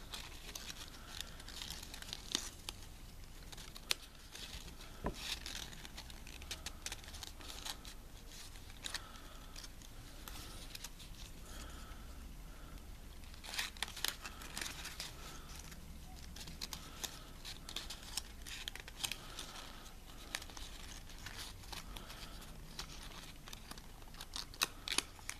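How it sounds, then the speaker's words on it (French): Paper is handled and folded into a modular square box lid, with soft rustles, crinkles and occasional sharp creasing taps, quiet and close, continuing unevenly throughout. "Il faut entrouvrir un peu votre papier"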